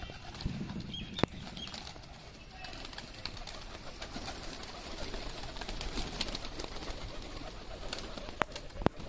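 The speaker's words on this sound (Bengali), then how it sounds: "তোমাদের কিছু পায়রার খেলা দেখাই" Desi Giribaz pigeons coo softly amid a busy outdoor background, with scattered clicks and taps throughout.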